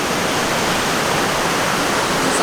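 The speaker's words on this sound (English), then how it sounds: "It's almost like a waterfall here." A high, fast river rushes like a waterfall, a loud, dense, unbroken roar of water that fills the whole clip at close range, with no voices.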